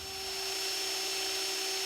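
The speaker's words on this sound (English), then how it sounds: "we just use the drill to force that in" Power drill whirring steadily at close range while forcing a rubber insert into a spot weld nozzle on a Mercedes R107, a continuous high-pitched drone with a faint tonal hum underneath and no talk.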